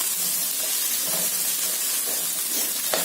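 Cooked chickpeas sizzle in a hot pan as a steady, fairly loud hiss, broken by a few faint stirring scrapes.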